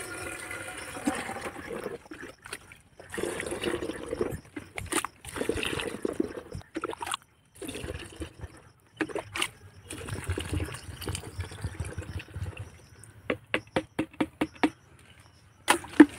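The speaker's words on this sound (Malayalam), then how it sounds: "അതിനകത്തോട്ട് നമുക്ക് ഇതേപോലെ കപ്പിൽ കോരി കുറേ ഒഴിച്ചു കൊടുക്കാം" Liquid is scooped by cup and poured into a five-litre can in several bursts of splashing and trickling, separated by pauses, with clinks and knocks of the container toward the end.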